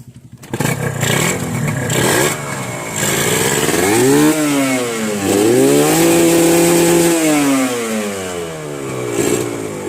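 A Yamaha TZR two-stroke motorcycle engine, serviced outdoors with its exhaust quietened, revs up and down in loud, close rising and falling sweeps over a steady idle, with no talk.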